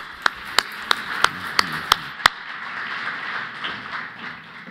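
At an awards ceremony, a handful of sharp claps greet an award winner, about seven evenly spaced hand claps, then fading into quiet room tone.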